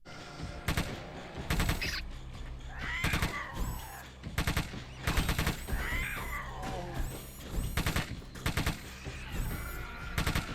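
Gunfire in the Xbox first-person shooter RoboCop: repeated loud, close gunshot bursts in an uneven rhythm, broken by crashes and game effects throughout.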